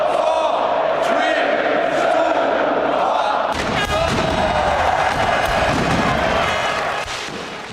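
Fireworks burst over a packed crowd at Highbury stadium on the final day of the old ground, crackling bangs layered over a loud, roaring sea of cheering fans throughout.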